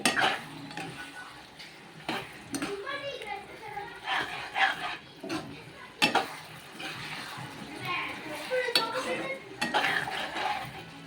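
Egg biryani gravy being stirred in a pan, with repeated scraping and clinking strokes of a utensil against metal and faint sizzling in between, close and moderately loud.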